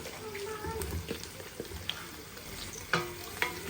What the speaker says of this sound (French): Je vais cuire un petit peu les champignons dans ma sauce.